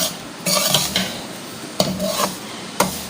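A spoon stirs semolina as it roasts in a pan for panjiri, making bursts of scraping and rasping strokes against the metal with short pauses between them and no voices.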